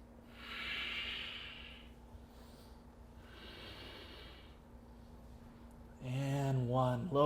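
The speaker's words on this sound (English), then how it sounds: "deepening the inhales, deepening the exhales" Slow, deep yoga breaths come as soft airy inhales and exhales, two long breaths heard close and fairly quiet, followed by a voice speaking at the end.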